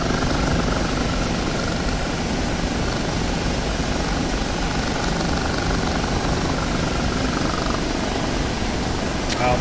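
An OH-58D Kiowa helicopter in the flight simulator DCS World flies with a steady, dense rotor and turbine roar that stays loud and unchanging throughout, with a voice speaking over it.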